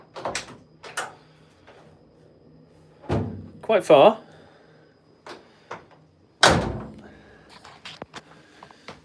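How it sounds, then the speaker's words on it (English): Doors of a 1969 Westfalia camper van open and shut in sharp metallic clunks and thunks, several separate knocks and latch clicks spread out, with someone talking in between. "However, I can open this door"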